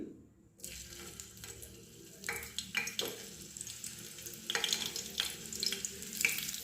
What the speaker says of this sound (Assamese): প্ৰথমতে আলুখিনি ফ্ৰাই কৰি ল'ব লাগিব।